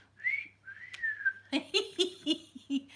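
A person whistles, first two long sliding notes, then a quick, bouncy string of short tones in a playful rhythm, close and fairly soft.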